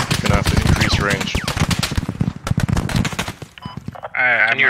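Rapid automatic gunfire and shots crackle loudly and continuously in the Squad video game, dense bursts overlapping with a voice, ending in a louder sustained blast.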